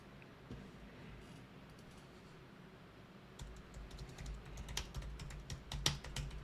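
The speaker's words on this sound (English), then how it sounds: "I'm typing dramatically to add to the effect." Quiet typing on a computer keyboard, soft at first and then faster, sharper keystrokes in irregular bursts, with no talking.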